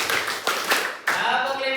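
A group claps in a counted rhythm during a talk on education, a few sharp, separate claps ringing out between a leader's spoken cues, fairly close and clear.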